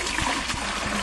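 Water gushing steadily from a street pipe tap in a village, a constant close splashing trickle with a few brief knocks, no voices.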